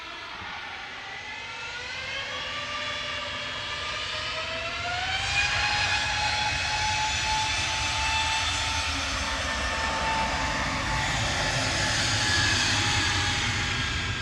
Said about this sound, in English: Scandinavian 540 departing to Copenhagen there, EISIF A320 Neo.